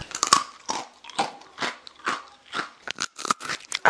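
Hard dry biscuits are bitten and crunched up close, each bite a sharp crackling snap followed by rhythmic chewing crunches, about a dozen distinct bursts with quiet gaps between.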